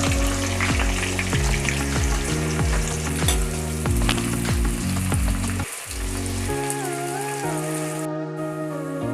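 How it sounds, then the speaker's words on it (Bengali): Chopped onions fry in hot oil in a kadai for birista, a loud steady sizzle broken by repeated scraping stirs, with the hiss easing toward the end and no talking. "কুচনো পেঁয়াজটা আমি তেলের মধ্যে দিয়ে দিলাম বেরেস্তা করার জন্য"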